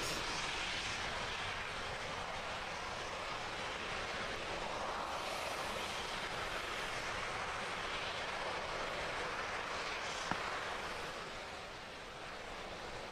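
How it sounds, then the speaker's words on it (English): A flight-proven SpaceX Falcon 9 first stage burns during ascent on a Dragon launch, heard as a steady, distant, broadband roar with no voices over it. "This first stage burn will last for about another minute and 10 seconds."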